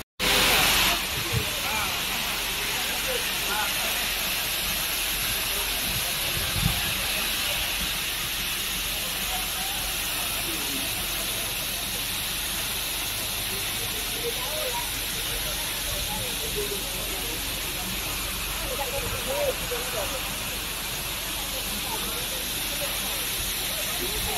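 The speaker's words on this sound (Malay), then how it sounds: "Air terjun Lembah Arau" Lembah Arau waterfall in West Sumatra, a constant broad roar of falling water that holds steady throughout, with faint background sounds scattered across it.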